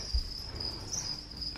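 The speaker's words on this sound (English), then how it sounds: "when I put the crickets in there" Crickets chirp in a steady high, thin trill with a brief brighter burst partway through, fairly faint and continuous, set indoors where they have been dropped into an enclosure as live feed.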